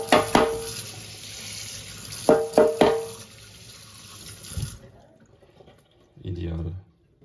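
Water flushing through the water circuit of a DeLonghi ECAM 656.55 PrimaDonna coffee machine during repair: a steady rushing hiss broken by a few sharp clunks, cutting off after about five seconds, followed by a short low pump hum.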